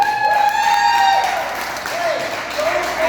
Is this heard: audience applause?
yes